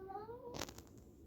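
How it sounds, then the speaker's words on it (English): A female cat in heat lets out a rising, wavering meow that gives way to a brief burst of sharp noise, heard up close and alone. "sorry about my cat meowing."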